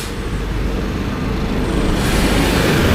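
A steady, rumbling roar from inside the last carriage of a small train moving along the tracks in Bangkok, constant and loud, with no distinct clacks or voices.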